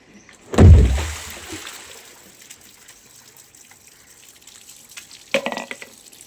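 A child washing inside a drum sends up a loud close splash of water early on, then softer trickling and dripping, and another burst of splashing near the end, with no clear speech.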